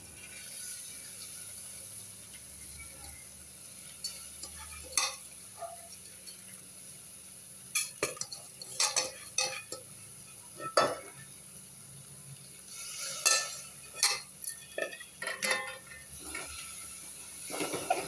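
Rice is stirred in a pan with a faint background hiss, marked by irregular scraping and clattering strokes of a spoon that come in bursts, busier in the second half.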